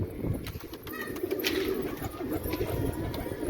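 Pigeons coo in a home pigeon loft, a low soft murmuring that runs steadily throughout against light background noise.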